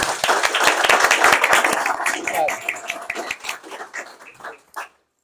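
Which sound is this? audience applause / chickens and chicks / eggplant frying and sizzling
audience applause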